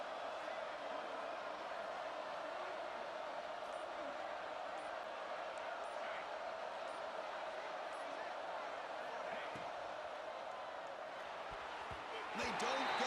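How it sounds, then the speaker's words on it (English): Stadium crowd noise in the College Football 26 video game: a dense, steady roar from a large crowd holds throughout and swells louder at the very end. "they'll have to conquer this crowd noise"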